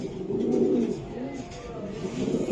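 A racer pigeon coos close by, a low, throaty, rolling call repeating in soft waves with no talk over it.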